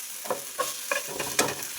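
A coriander chutney mixture is stirred in a frying pan, with a few soft scraping strokes over a faint sizzle, close and quiet, with no talking.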